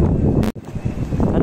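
Steady low wind from Storm Ciara buffets the microphone outdoors in a continuous rumbling rush, briefly cutting out for a moment before resuming.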